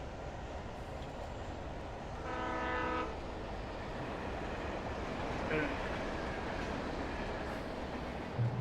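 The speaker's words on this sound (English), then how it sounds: "Ooh, a train." A train rumbles past in the Alan Wake video game, a steady low roar with a brief horn-like tone rising midway, heard faintly under ambient game sound.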